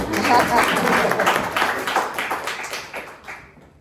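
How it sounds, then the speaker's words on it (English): Applause from an audience at a student showcase as a speaker walks in, dense and loud clapping that holds for a few seconds, then fades out. "We can clap when you walk in."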